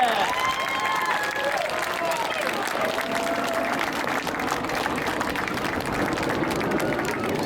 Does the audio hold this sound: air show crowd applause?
yes